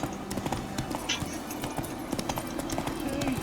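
Hooves of Geralt's horse Roach galloping in The Witcher 3, a quick, steady clip-clop rhythm close up over a low ambient bed, continuing for the full stretch.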